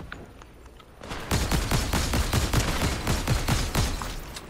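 Rapid gunfire rattles in the Fortnite video game, a loud, dense burst of repeated shots that starts abruptly about a second in and continues steadily to the end.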